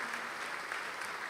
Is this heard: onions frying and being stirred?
no